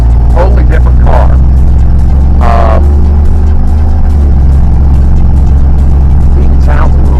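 A budget hot rod car converted from manual to automatic transmission drives along, its engine giving a loud, steady low rumble throughout, with brief bursts of speech over the drone.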